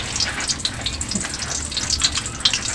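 Tortang talong, an eggplant omelette, frying in a pan with a steady close sizzle and crackling spatter, no voices over it.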